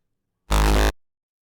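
A brief synth tone from a wavetable oscillator with gently moving position, a single dense, bright burst about half a second long that cuts off abruptly, heard alone.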